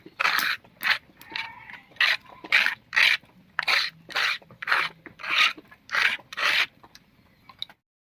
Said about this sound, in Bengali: এবারে এক চামচ গোটা জিরা আর এক চামচ গোটা ধরিয়া একসঙ্গে করে বেটে নিচ্ছি